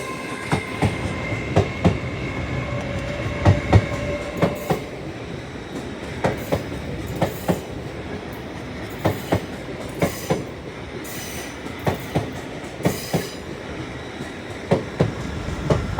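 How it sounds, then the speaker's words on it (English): Northern Class 170 unit 170-457 departs Doncaster station on a Hull to Sheffield service, its wheels beating out a steady, evenly spaced clickety-clack over the rail joints at moderate volume, with no voices. "Departing now is 170-457, working the 1290 Northern train service from Hull to Sheffield."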